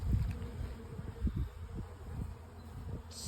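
A low, steady hum of honey bees, Apis mellifera mellifera, working on honey frames in a hive, buzzing close by at a moderate level with soft rustling and no talking.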